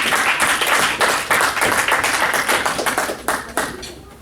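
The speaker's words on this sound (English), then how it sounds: "That applause is for yourself." An audience applauds a rabbi after his afternoon teaching, a dense, steady wash of clapping that stays loud and close for the whole stretch, with a few sharper claps standing out near the end.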